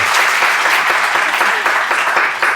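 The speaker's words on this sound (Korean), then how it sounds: "두 분에게 박수 한번 주십시오." A loud, close burst of audience applause at a book talk with two authors, many hands clapping densely and continuously throughout.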